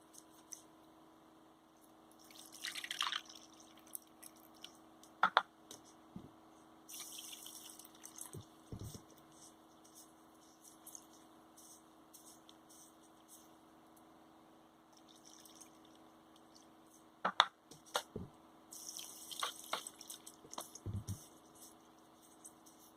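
Ragi (finger millet) grains being washed in water, with quiet intermittent sloshing, squishing and splashing bursts separated by near silence, no voices.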